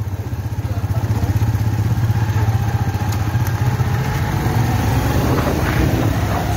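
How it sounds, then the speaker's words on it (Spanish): A delivery motorcycle's engine runs steadily and loud throughout, with a rapid, even pulsing rumble and some mechanical clatter, close by and without talk. "mire cómo le corre la moto a Gallo."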